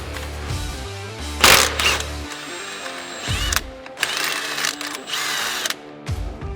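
Bursts of a power tool buzzing and whirring remove the flywheel bolt on a Polaris RZR, several loud, short runs broken by pauses.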